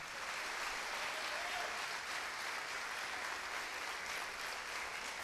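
Church congregation applauding in the morning service, a steady wash of many hands clapping throughout, moderately distant, no talk.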